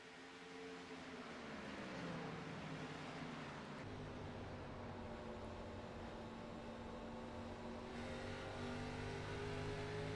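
Race car engine in a racing video game at Gateway, droning steadily with harmonic tones that drop and shift as it downshifts mid-corner, continuous and fairly loud throughout.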